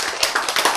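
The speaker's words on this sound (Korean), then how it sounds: "박수." Congregation clapping during a Korean-language church sermon: a brief, quick run of about five close hand claps, with no talking over it.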